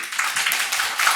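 Applause in a church congregation at an Easter morning service, welcoming a first-time visitor: a short burst of dense, steady clapping from many hands, fairly close, with no voices over it.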